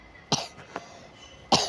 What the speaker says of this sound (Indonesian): Jadi mohon maaf ya kalau aku batuk-batuk